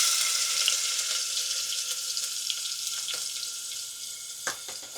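Chopped onion hits hot oil already seasoned with whole cumin and asafoetida in a pan, giving a steady, close sizzle and hiss with a few small crackles, and no voices.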